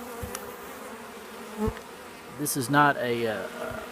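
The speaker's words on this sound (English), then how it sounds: "These are just random bees that got shaken in" Honeybees shaken into a package from mixed sources buzz steadily nearby, with a louder whining hum swelling near the end and a single faint tap.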